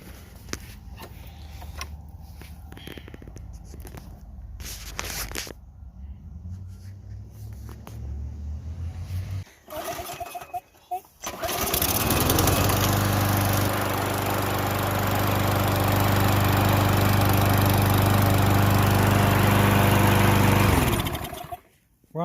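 A push lawn mower, a Murray or Yard Machine, is pull-started after some handling clatter, then its small engine catches and runs loud and steady for about ten seconds before cutting off.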